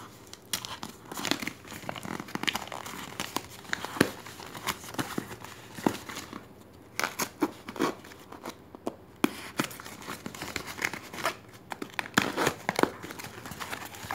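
Package holding Kawasan F9 wireless earphones being torn open, with repeated close crinkling of plastic wrap and paper and sharp tearing bursts in an uneven rhythm over about fourteen seconds, no voices.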